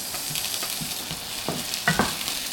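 Chopped onions and tomatoes fry in a pan with a steady low sizzle, broken by a few stirring scrapes and clacks near the end.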